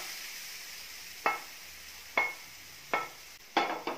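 Sweet potato sautés in ghee in a pan, with four or five soft scraping stirs over a faint background sizzle, close by and quiet.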